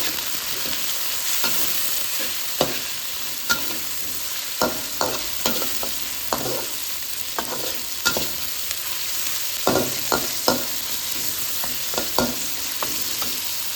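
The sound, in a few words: stirring soup bones frying in a pot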